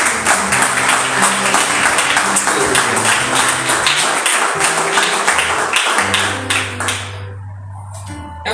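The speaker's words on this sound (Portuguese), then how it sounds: "Glorifica Jesus com as suas palmas" A church congregation claps in praise of Jesus, steady dense clapping over sustained organ-like musical tones for about seven seconds before the clapping thins and a held low note lingers.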